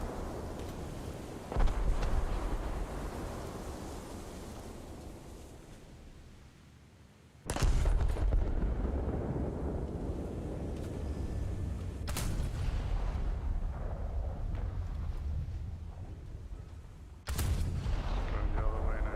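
Warship naval guns fire in a naval battle video game. Heavy booms land several seconds apart over a constant rumbling background of wind and engine noise.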